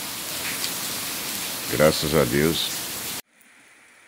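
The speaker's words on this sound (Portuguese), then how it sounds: "A chuva, galera." Rain drips through roof leaks in Campo Grande, Rio Grande do Norte, a soft steady patter heard under a short spoken phrase before the sound cuts off abruptly near the end.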